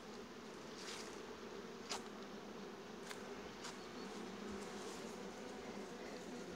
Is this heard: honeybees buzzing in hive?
yes